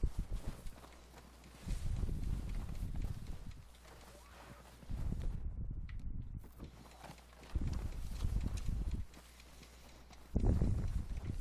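A horse's hooves clip-clop at a walking pace in steady bursts, moderately near, with some quieter stretches between passages of hoofbeats and faint outdoor background.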